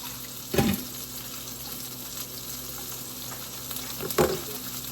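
Chuck roast sizzling in a pan as it is flipped for birria, a steady fry hiss with two brief louder bursts of spatter at each turn, close and with no talking.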